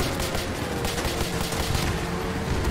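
A rapid, continuous burst of gunfire in Call of Duty Modern Warfare 2 Remastered rattles for a few seconds, dense and loud, with no pauses between shots.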